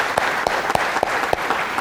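A church congregation claps for prize winners, a dense, steady wash of hand claps with a few louder individual claps standing out, close and continuous.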